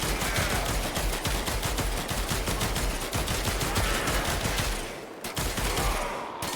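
Panthera Prime firing in the video game Warframe: a continuous, loud, rapid stream of shots with steady rhythm, briefly dipping near the end before resuming, with no voices over it.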